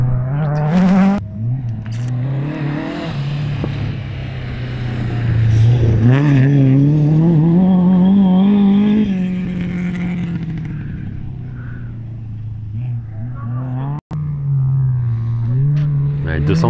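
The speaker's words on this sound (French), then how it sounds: "Quel plaisir de voir ces voitures Peugeot." Peugeot rally cars, including a 205, race past on a dirt stage at the 2019 Rallye Terre de Vaucluse, engines rising and falling as they rev hard near the listener, under loud commentary.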